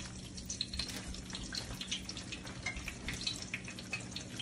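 Fish fries in a pan of hot bubbling oil, giving a steady, faint crackling sizzle with scattered pops and no voices.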